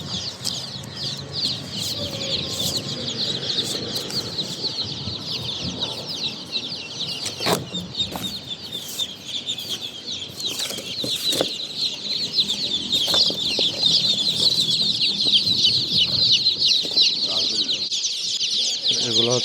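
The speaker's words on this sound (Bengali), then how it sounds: "এখানে আছে মুরগির বাচ্চা, কাজী কোম্পানির মুরগির বাচ্চা।" Kazi company chicks and chickens at the Nimtali poultry market fill the air with a dense, continuous chorus of high peeping and scattered clucks, close by and steady, with market bustle underneath.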